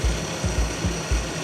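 A 48V brushless DC motor swapped into a Razor Dirt Quad spins the wheel, giving a loud, steady mechanical whir with a regular thumping pulse about three times a second.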